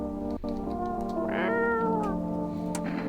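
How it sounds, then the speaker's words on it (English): A video game cat lets out a drawn-out, tonal meow that rises and bends, close and clear, with a faint click near the start and a short mew near the end. "Where's the kitty? You gotta pet the kitty."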